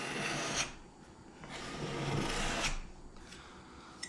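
A profile scraper rasps along the curved profile of a wooden door, stripping the old finish in repeated close strokes with brief pauses between passes.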